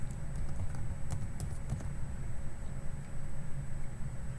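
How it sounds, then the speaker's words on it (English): Computer keyboard typing during CAD modeling, a quick cluster of close clicks early on, then quieter taps over a steady low hum. "I like to just type it in."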